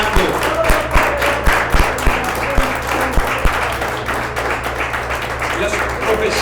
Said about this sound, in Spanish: Dale un fuerte aplauso a Él si tú lo estás esperando.